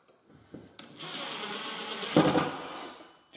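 Cordless power screwdriver driving screws into a pull-out kitchen bin fitting, a short motor whir lasting a couple of seconds with a brief harder burst near the end, close by.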